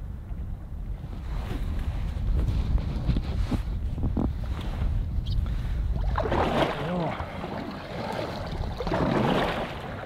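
Strong headwind buffets the microphone on a hike in Nuuksio National Park, a continuous loud roaring rush with gusting swells and no break throughout.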